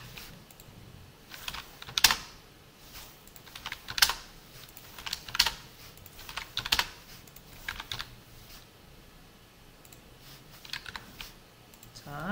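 Computer keyboard keys pressed in short bursts while shortcuts and a greeting are entered in a software development setup; the clacks are close and distinct, with a few louder strokes standing out amid brief pauses.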